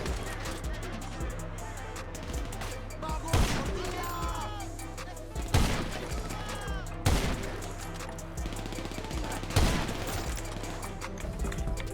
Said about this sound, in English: Let's just shoot them all.